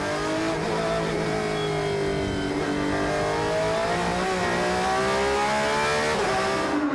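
Race cars including a Porsche howl past on a rain-soaked circuit, one loud engine note rising and falling steadily through gear changes, close and continuous without any talking.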